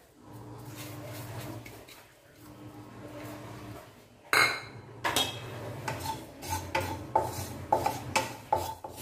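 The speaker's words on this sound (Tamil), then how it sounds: "ஓமம் நல்ல வாசனை வர வரைக்கும் வறுத்து எடுத்துக்கலாம்" Ajwain seeds dry-roasting in a kadai as a spatula stirs them, giving quiet scraping at first and then a run of clearer metallic clinks and scrapes against the pan that grow more frequent toward the end.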